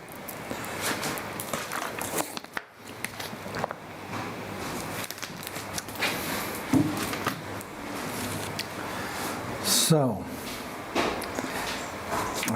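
Footsteps shuffle and thud across a room with scattered sharp knocks on a door, irregular and close by, mixed with handling noises, and a brief spoken word.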